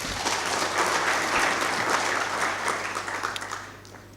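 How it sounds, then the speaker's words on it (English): A large audience at a youth entrepreneurship symposium applauds in a sustained burst of dense clapping that tapers off near the end. "Give yourselves a round of applause."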